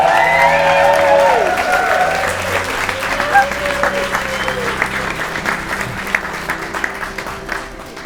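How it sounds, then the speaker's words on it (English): An evening audience applauds and cheers a speaker just introduced at an event, with dense, loud clapping that starts strong and gradually thins out, plus scattered shouts and whistles. "please can you give a big cheer for our first speaker of the evening, Mr. Stephen Morris."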